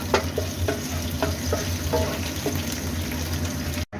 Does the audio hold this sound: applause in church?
no